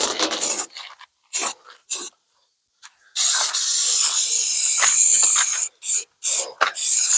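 Carb cleaner sprayed from an aerosol can in short sharp hissing bursts, then one long continuous spray followed by several more quick blasts, loud and close.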